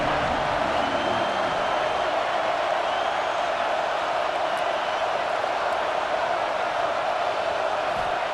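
Home stadium crowd noise from the EA Sports College Football 26 video game: a thick, constant roar of distant fans, steady and loud with no break, without any distinct cheer peaks.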